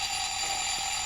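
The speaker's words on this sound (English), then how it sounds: "That's a long ring timer." An oven timer rings during bread baking, a continuous high electronic tone that stays steady and fairly loud through the whole moment with no speech.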